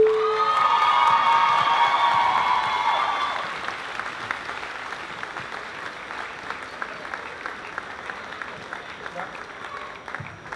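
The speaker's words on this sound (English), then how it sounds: "Everybody please give them a round of applause." Applause and cheering from the audience at a high school graduation ceremony, a loud dense wash of clapping with whoops that tapers after a few seconds into lighter, scattered clapping.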